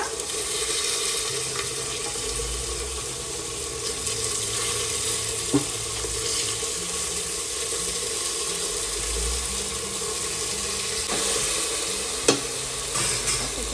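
Tomato, green beans and carrot fry in a pan for Maharashtrian masala rice, a steady close hiss of sizzling oil with a couple of sharp knocks from the spoon against the vessel.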